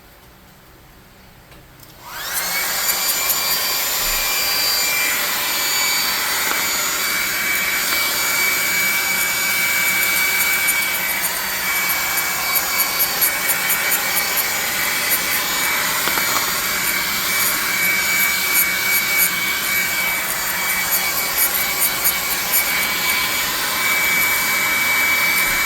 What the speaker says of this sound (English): let's hit this with a hairdryer